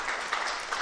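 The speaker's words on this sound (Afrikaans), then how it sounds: "Ach, kom ons gees my lekker hande klap." A church congregation clapping their hands together, a dense steady patter of many hands at moderate loudness with no talk over it.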